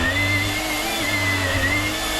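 A Shark Power Detect vacuum cleaner runs continuously inside a caravan with a steady high whine over a low motor hum, close by and alone.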